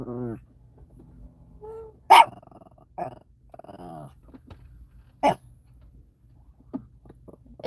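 Chihuahuas at a truck stop giving short sharp barks and growls, several bursts spread out over quiet stretches, with people speaking in between.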